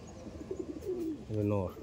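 Racing pigeons in a loft giving a short, soft cooing call, near and low-pitched, with faint background noise.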